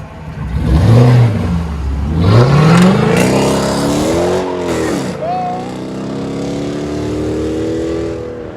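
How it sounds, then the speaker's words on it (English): A 2015 Dodge Charger with a 5.7L HEMI V8 revs hard, its deep engine note sweeping up and down in loud repeated pulls, then settling into a rumbling idle with voices faintly present. "Dodge Charger 2015 Hemi."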